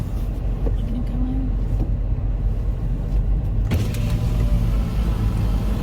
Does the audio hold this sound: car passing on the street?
yes